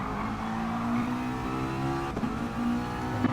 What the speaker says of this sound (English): you can hear the difference in the engine notes and driving styles